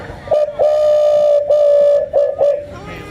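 A person imitates a crow with a game call at an outdoor country fair, giving several loud, sustained hooting blasts with brief breaks between them.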